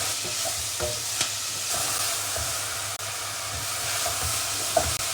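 Leeks softening in a pan over moderate heat, hissing steadily while a utensil stirs them in repeated scraping strokes, close-up and uninterrupted by speech.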